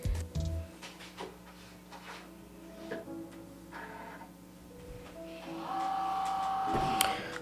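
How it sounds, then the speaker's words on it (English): A Cricut Joy Xtra cutting machine loads vinyl on a mat, with soft ticks and mechanical clicks followed by a steady motor whine that rises toward the end, close and moderately quiet. "So now we're just loading the vinyl in the machine"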